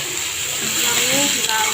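Cut potato pieces frying in hot oil give a steady, close sizzling hiss that holds evenly throughout.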